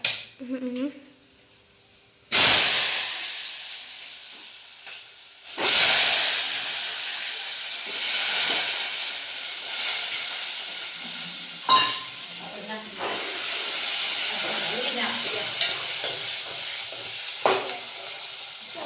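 Potatoes dropped into hot oil in a home kitchen burst into a loud, close hiss that then settles into a steady sizzling fry with occasional pops and stirring, while a voice talks briefly at the start.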